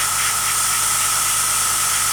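An airbrush with a 0.4 needle at just under 20 psi sprays paint onto a small Me109 model part, a close, loud, steady hiss of air with no break.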